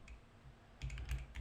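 Quiet, close keystrokes tap on a computer keyboard in a short irregular burst, faint at first and then a few louder clicks, with no talking.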